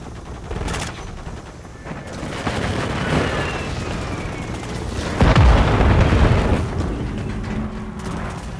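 Precision airstrike explosions in Call of Duty Modern Warfare 3, with rolling booms and rumbling blasts mixed with scattered gunfire, building to a heavy, loud detonation midway before settling into continued distant battle noise.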